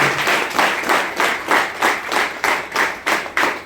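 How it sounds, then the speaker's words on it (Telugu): A training-session audience claps loudly in unison, about a dozen strong rhythmic bursts of hands evenly spaced, close and forceful with no talk. "అప్పుడైనా ఒకసారి గట్టిగా క్లాప్స్ కొట్టాను."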